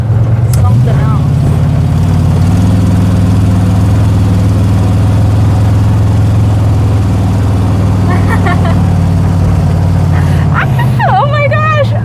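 A 1956 Chevy Bel Air hot rod rumbles steadily while driving, a loud low engine drone holding throughout, with a brief rev change near the start and voices exclaiming over it toward the end.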